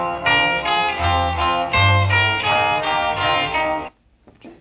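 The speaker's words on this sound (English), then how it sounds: "And now we play down 6 notes." Electric guitar picking a quick six-note descending run in a classic rock 'n' roll riff, clear and fairly loud with no talk, ending abruptly in near silence.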